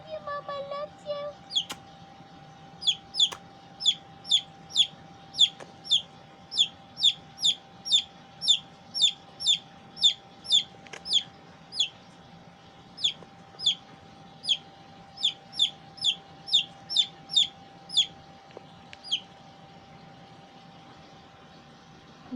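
Adopted chick peeping beside a budgie parakeet, a steady series of short high chirps repeated about once a second, with a faint background hum and no speech.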